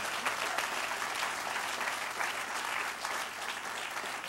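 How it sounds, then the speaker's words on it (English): Sustained applause from a crowd at a groundbreaking ceremony, a dense steady patter of clapping with no pauses. "Let's give them a round of applause."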